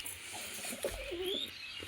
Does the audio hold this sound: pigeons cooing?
yes